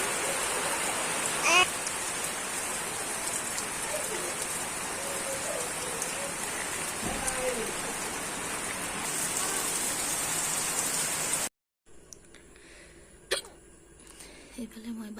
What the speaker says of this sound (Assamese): ইমান বৰষুণ দিছে, একদম জোৰকৈ আহিছে